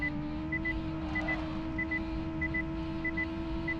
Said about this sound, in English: And again, I do apologise for the beeping.